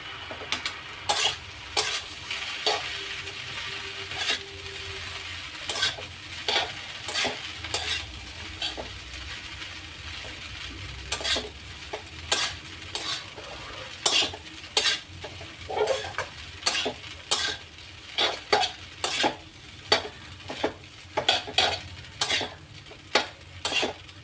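Pasta with soy sauce and ground black pepper being stirred in a hot pan, a continuous low sizzle under repeated sharp metallic scrapes and taps of the utensil against the pan, close and without speech.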